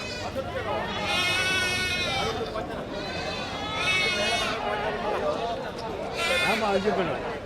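Malabari goats bleat repeatedly at a busy goat market, three loud wavering calls rising over steady crowd noise and nearby talking.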